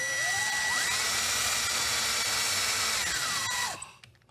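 Handheld power drill boring holes in RC truck wheels for a TRX4 dually conversion, the motor whining up to a sustained high pitch for about three seconds, then stopping and spinning down.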